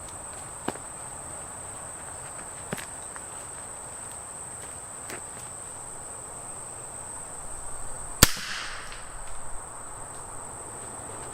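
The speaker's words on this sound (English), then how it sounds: "We'll shoot the Heritage Rough Rider next" A Heritage Rough Rider revolver fires once at cans outdoors, a single sharp crack over a steady background of chirping crickets and faint rustling.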